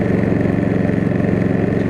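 A Westinghouse iGen 4500DF dual fuel generator runs at a steady, loud, close drone while powering RV appliances. The even engine hum pulses rhythmically with no break and no talk.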